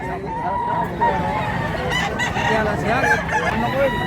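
A rooster crowing loudly and close in a busy Cebu livestock market, its long drawn-out calls over clucking fowl, with people talking and haggling throughout.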